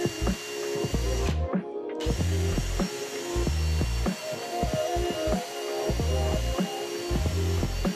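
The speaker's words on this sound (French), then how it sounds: "Percez à travers l'accessoire et à travers l'arrière." A power drill bores through a wooden storage accessory and into the backing behind it. Its motor whines loudly in repeated pulsing bursts about a second apart, close up, with no talk.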